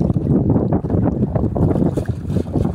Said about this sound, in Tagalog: Medyo mahangin dito mga kautog